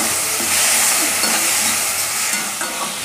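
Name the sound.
tomatoes frying with onion in a pan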